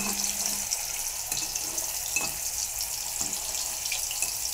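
Chicken kebabs fry two pieces at a time in hot oil, giving a steady, close hiss of bubbling oil with a few faint clinks, and no one speaks.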